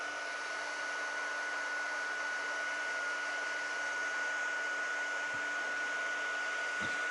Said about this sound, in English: So I'm just going to heat set this.